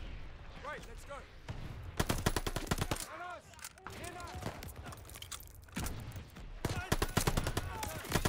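Rapid automatic gunfire bursts in the Call of Duty: Vanguard campaign, loud repeated volleys separated by short pauses, with a voice talking between the bursts.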